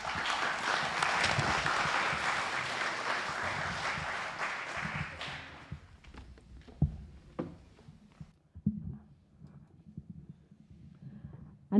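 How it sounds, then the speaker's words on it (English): A hall audience at a Tangaza University event marking Cardinal Lavigerie's bicentenary applauds after a presentation, a dense, even burst of clapping for about five seconds that stops abruptly, leaving scattered knocks, shuffling and footsteps. "Another round of applause for that elaborate presentation"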